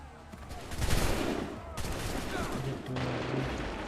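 Musket volley fire in Assassin's Creed 3, with a couple of loud massed bursts of gunfire that ring out and decay, separated by brief gaps, with faint shouted commands underneath.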